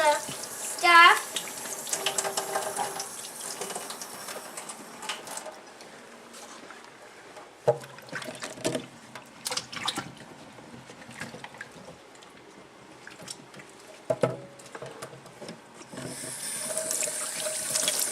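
Fruit rinsed under a running tap before home canning, water gushing and splashing unevenly as the pieces are handled, with occasional knocks and clatters against the sink over the steady flow.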